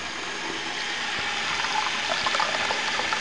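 Water pours steadily into a cooking pot for rice, a continuous close rushing splash that swells slightly louder toward the end, with no talking.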